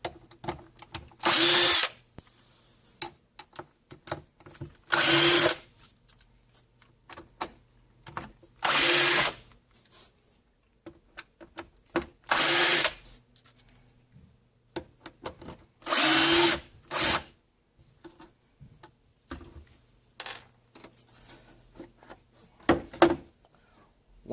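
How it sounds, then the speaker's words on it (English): Power drill backing screws out of a sensor cover, running in six short bursts of one to two seconds each, separated by quieter clicks and handling noise, close and loud. "use your drill or screwdriver and remove the screws"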